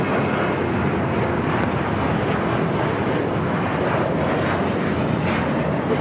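An airliner takes off from the south side of LAX on a flight to Osaka, its jet engines a loud, sustained broadband roar that holds steady throughout without a break.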